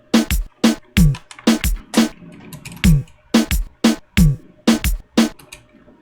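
Snare hits programmed in LMMS join the kick of a reggaeton beat, forming a bouncy syncopated drum pattern of sharp cracks and thumps, loud and close with no voice over it.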